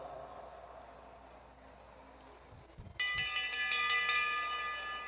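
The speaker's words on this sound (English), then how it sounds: "Jack Leary about to hear the bell." At a cycling track race, the last-lap bell rings out as a run of rapid metallic clangs that starts suddenly and continues over the crowd and arena background hum.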